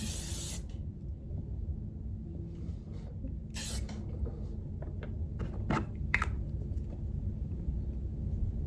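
A hairspray-type aerosol can gives a few short, bright hissing bursts, then a run of quick little puffs and clicks, heard close over a low steady room rumble with no talk.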